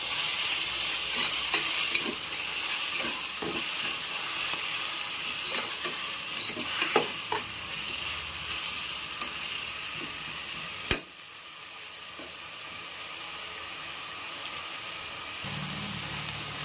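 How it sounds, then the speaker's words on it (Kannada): Spice paste sautés in hot oil in a pan for Tamil Nadu style mutton biryani, giving a loud, continuous sizzle with scraping stirs, a sharp clank, then a softer fry. "ಹಾಕಿ ಅದನ್ನು ಸ್ವಲ್ಪ ಎಣ್ಣೆಲೆಲ್ಲ ಚೆನ್ನಾಗಿ ಬಾಡಿಸ್ಕೊಬೇಕು"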